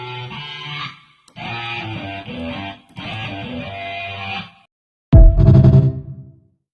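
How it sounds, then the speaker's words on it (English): A spoken voice sample run through distortion, an amp simulator and reverb so that it turns into an electric guitar sound. Three sustained, loud processed phrases come first, then a sharp, bright strummed attack that rings out and decays. "Let's run it through an amp. Let's add some reverb. Now we got an electric guitar."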